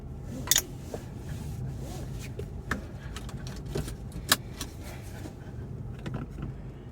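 A car driving along, heard from inside the cabin: a steady low road-and-engine rumble with a few sharp clinks and jingles, like keys, standing out briefly above it. No one talks.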